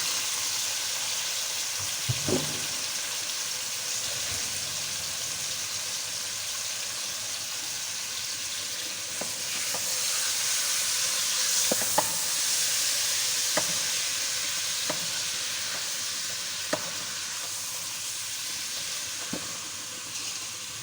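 Washed mutton pieces frying in a pan for arvi gosht, a steady close hiss and sizzle that swells partway through, dotted with occasional sharp spatters and clicks and no talking.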